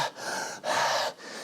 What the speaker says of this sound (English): Janis was panting into the microphone